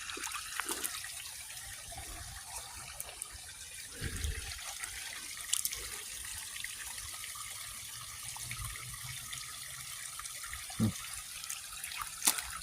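A small creek with no big rocks, its water trickling and burbling gently and continuously at low volume, with occasional soft splashes and no speech.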